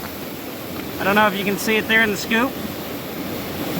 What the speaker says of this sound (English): I know the river's loud